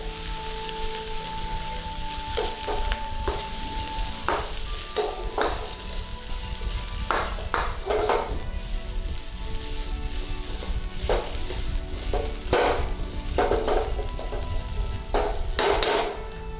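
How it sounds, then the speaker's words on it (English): Peppers and chili stir-frying in a hot pan for a Chinese-style beef and mushroom stir fry, a steady loud sizzle with irregular scraping stirs and crackles throughout, no talking. "We're going to go in with our peppers. And we want to go in with our chili. Give that a bit of a stir around."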